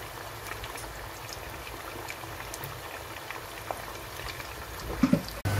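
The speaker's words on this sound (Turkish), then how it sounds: "Daha sonra patlıcanlarımızı kızartacağız." Steady, dense sizzling and crackling of eggplants frying in hot oil, continuous and fairly quiet, with a brief clatter near the end.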